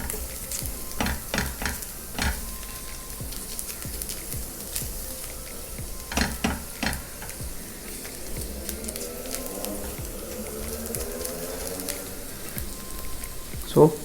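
Finely chopped ginger sautés lightly in a pan for a warm quinoa salad, giving a soft continuous sizzle with occasional stirring scrapes and clatters throughout.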